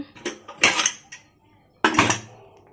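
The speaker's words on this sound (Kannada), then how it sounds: "ಇನ್ನು ಇಷ್ಟು ಪಾತ್ರೆ ಇದೆ ತೊಳಿಬೇಕು" Dirty dishes and cutlery clattering together in a home kitchen, two loud nearby bursts of clinking metal and plates separated by a short quiet gap.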